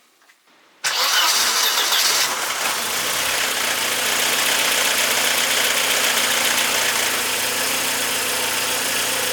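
A Mercedes 190E W201 with the 1.8 engine cranks briefly and fires up, then settles into a steady, loud, close idle that runs on evenly after an oil filter change.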